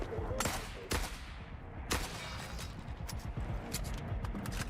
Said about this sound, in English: This is the RPK, not the AK.